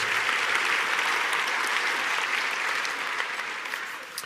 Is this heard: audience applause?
yes